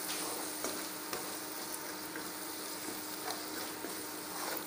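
Tomato and yogurt masala for chicken Ambur biryani sautés in a pan, giving a soft, even sizzle with a few faint stirring taps.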